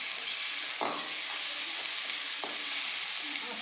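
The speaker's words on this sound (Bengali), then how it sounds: "এগুলো ভাজা ভাজা করে দেবো।" Chopped garlic and chili sizzle in hot oil in a wok, a steady bright hiss throughout with a couple of sharp scraping stirs of the spatula.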